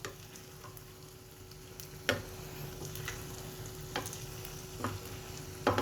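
Beaten egg for a Thai omelette fries in hot oil with a steady, close sizzle, broken by a few sharp clinks and scrapes from a utensil in the pan.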